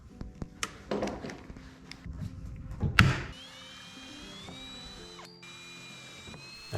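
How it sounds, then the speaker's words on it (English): A power drill bores holes for drawer pulls in a cabinet door during a custom home bar build, with short clicks, clunks and a sharp knock, then a steady whirring drill tone with shifting pitch, fairly quiet, no talking. "then drilling the holes for the pulls."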